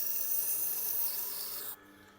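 Steady rasping grind of a knife blade being sharpened on a Tormek T8 wet grinding machine, close and continuous, then cutting off abruptly near the end.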